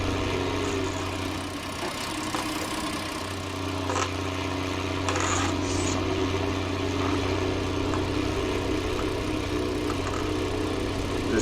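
A small International tractor idles in a farming video game, a steady, even engine drone with a low mechanical hum that holds unchanged throughout, close and continuous with no talking.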